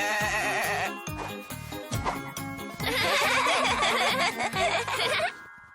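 A few bleats ring out, then a longer, wavering bleat follows, loud and close, with no talking.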